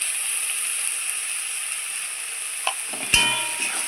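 Ground masala with salt and turmeric fries in a pan as a steady, even hiss, with a brief stir and a sharp metallic clink near the end.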